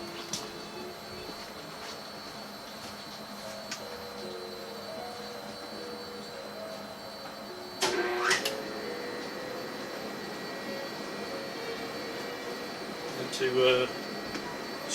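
Repaired LBZ/LMM Duramax CP3 injection pump running on a test bench, a steady mechanical whir and hum at moderate level with two brief louder surges, while a voice talks at times.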